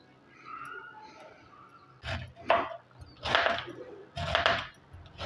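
A knife chops beetroot on a board in several short, sharp bursts of quick strokes with pauses between them, fairly close and without talk.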